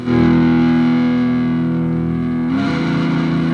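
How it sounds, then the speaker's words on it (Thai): Heavily distorted electric guitar, played through an amp-modeling effects unit, sustains a thick, buzzy chord, then shifts to a new chord partway through, loud and alone with no voices. "แล้วก็เสียงแตก"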